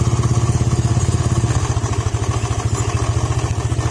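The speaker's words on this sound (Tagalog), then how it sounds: "Andalin natin para makita natin yung tunog ng kalampag or maluwag na sigunyal dito." A close, steady engine idle with a rapid, regular knocking clatter from a loose crankshaft pulsing through it, continuing evenly without any voices.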